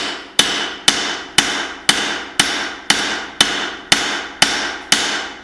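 Ten evenly spaced, ringing hammer blows on a forged hatchet smoothing out cross peen marks, each sharp strike close and loud with a short decaying ring, no talking.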